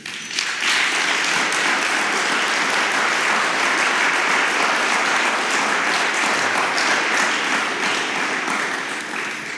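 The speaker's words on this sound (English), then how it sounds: "So my second round of applause, please, to all those here in the Foreign Office who have organized this" Sustained applause from a conference audience at the Foreign Office closing session, loud and steady with dense clapping throughout and no voices over it.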